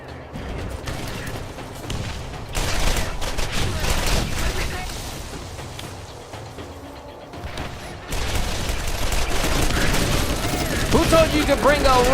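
Roland's deployed turret in Borderlands fires sustained rapid bursts, loud and close, with a brief lull before the shooting resumes while someone talks over it.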